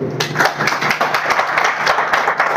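Audience applause at a talk, a burst of brisk, sharp hand claps from a room full of people, fairly close and steady throughout.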